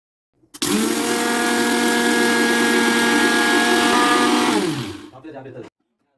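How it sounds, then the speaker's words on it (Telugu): An electric mixer grinder grinds cooled, roasted spices into powder. Its loud, steady whine runs for about four seconds, then winds down, followed by a few short pulses before it stops. "ఇవి బాగా చల్లారిన తర్వాత మిక్సీలో వేసి గ్రైండ్ చేసుకోండి"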